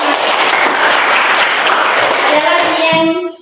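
A classroom of students clapping during a Christian religion lesson: loud, dense, steady applause for about three seconds, then cutting off abruptly and leaving brief quiet.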